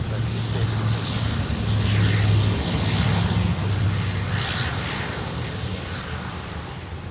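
An airliner takes off from runway 34 left at Sydney Airport, a broad, steady jet roar heard from a distance that swells slightly and then eases, with faint radio chatter beneath.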